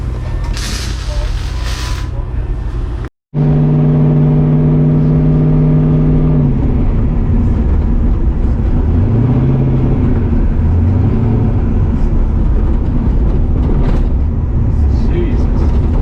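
A car doing a burnout, its engine revving up hard to a loud, sustained high-rpm drone, then dropping and surging again in shorter rises. A sharp cut comes just before the revving begins, and people talk over it.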